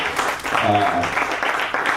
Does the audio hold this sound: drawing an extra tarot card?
no